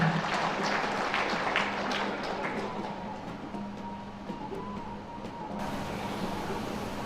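Applause from a seminar audience welcoming the regent of Rokan Hulu, a fairly faint, steady wash of clapping with a low hum underneath, a few sharper claps standing out early.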